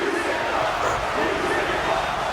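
A dense wrestling arena crowd roars steadily during a brutal match, a loud, continuous wash of cheering and shouting with no breaks.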